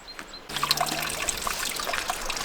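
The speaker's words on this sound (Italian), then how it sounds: "qui troviamo subito una fonte d'acqua" Water trickling from a mountain spring fountain along a hiking trail near Malga Luna in the Agordo area, a bright, steady splashing trickle that starts abruptly and runs close and continuous.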